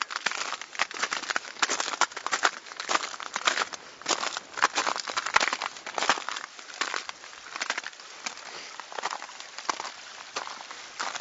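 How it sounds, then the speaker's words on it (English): Melting ice cap, a dense field of faint crackling and popping with irregular sharp clicks, continuous and steady throughout, no voices. "This is what a melting ice cap looks like."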